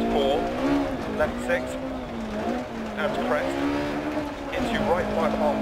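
A rear-wheel-drive 1980s race car runs on a dirt stage in a racing video game, its engine droning steadily with pitch rising and falling through shifts, while someone talks over it.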